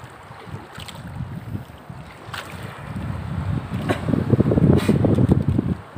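A motor boat heads out to sea toward Mararizon Island, its low engine rumble growing steadily louder beneath gusty wind buffeting the microphone and splashing water, with no talking.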